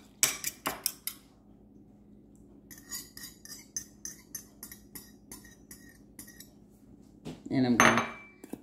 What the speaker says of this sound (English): I'm going to mix this egg in real well, as good as I can.